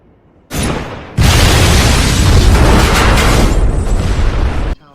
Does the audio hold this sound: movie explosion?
yes